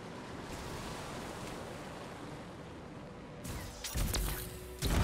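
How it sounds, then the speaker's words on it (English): Waterfalls run backwards in the Anthem video game, giving a steady broadband rush of water that swells into louder, choppier surges near the end. "Look at the waterfalls. They're going backwards."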